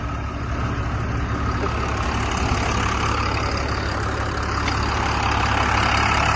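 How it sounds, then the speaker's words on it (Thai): A heavy Cummins diesel engine in a Tadano GR-160N-1 16-ton crane truck idles close by, a steady low rumble and clatter holding even throughout with no talking. "ตัวนี้เป็นเครื่องยนต์คัมมินนะครับ"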